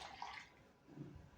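Half a cup of water poured into a dish while making yeast dough for Eid kahk cookies, a short splashy pour close by that fades into a softer low trickle.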